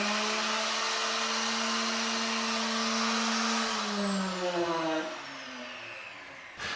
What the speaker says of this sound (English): The router is plugged into the switch. So theoretically, all I should have to do is hit the switch and it should cut on